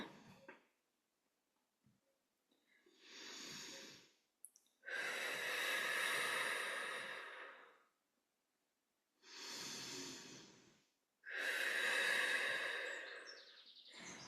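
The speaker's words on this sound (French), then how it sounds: "Tu inspires, tu expires." Slow, deep breaths during a relaxation exercise: a few long inhales and exhales, close and loud, each drawn out over a couple of seconds with near-silent pauses between them.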